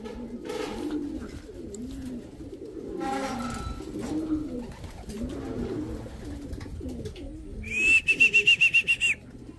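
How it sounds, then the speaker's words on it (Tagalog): Soft cooing from a racing pigeon arriving home murmurs under quiet background noise, then a brief high chirping electronic beep near the end. "Fourth bird natin si Zoro. Pasok"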